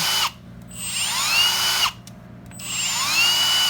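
A Milwaukee M18 Fuel Gen 3 cordless hammer drill whirs steadily at its lowest speed, stopping twice briefly and spinning back up, with a whining tone rising as it restarts.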